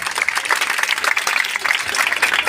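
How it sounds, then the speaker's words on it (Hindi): A crowd gives loud, dense applause for a teacher at an event in Ghorasahan, Bihar honoring a 10th-grade topper, with continuous close clapping and no talk. "बिल्कुल इनके लिए जोरदार ताली होनी चाहिए"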